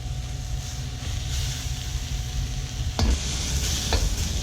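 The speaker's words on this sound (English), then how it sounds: "We want to keep the onions moving around a little bit so we can make sure they're all getting cooked" Onions sizzling in a hot pan while being stirred, a loud continuous hiss with scraping movement and a sharper clatter of the utensil partway through.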